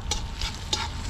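Dried chili and Sichuan pepper fry in oil during roadside camp cooking at night beside a highway in Tonghai, Yunnan. A bright, steady sizzle is broken by two sharp stirring scrapes, close and alone.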